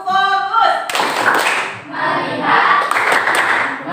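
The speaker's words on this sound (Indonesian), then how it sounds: "kita tepuk fokus dulu" A class performs a rhythmic focus clap, bursts of group hand clapping in short patterned phrases, loud and close, with a teacher's voice opening and children chanting between claps.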